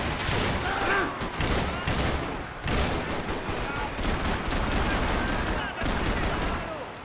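Dense, continuous gunfire in the Max Payne 3 video game, rapid overlapping shots and bursts filling the whole stretch with only brief dips, loud and up front.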